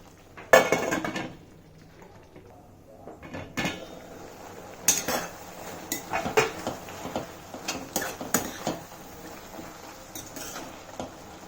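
Tomato and coriander are mixed in a pot with salt for a chutney, giving a run of metallic spoon-on-pot clinks and scrapes, sharp and close, with quiet gaps between strokes.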